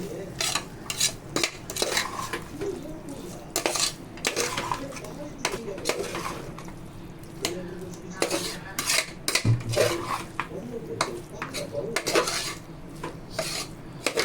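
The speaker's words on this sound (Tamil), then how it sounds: "மசாலாவை போட்டு நம்ம அரைச்சி வச்ச மசாலாவை போட்டு நல்லா கலந்து விட்டுக்குங்க" Ground masala being stirred into chicken curry in a pan, with steady clinking and scraping of a spoon against metal, repeated through the stretch under faint background noise and some voice.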